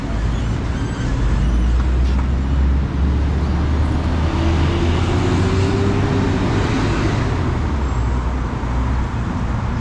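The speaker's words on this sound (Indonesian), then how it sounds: "bus yang kalian lihat ini adalah bus gratis ya." Street traffic on a Kuala Lumpur road where a free bus runs, a continuous loud engine rumble and roadway noise with vehicles passing close by; no talking.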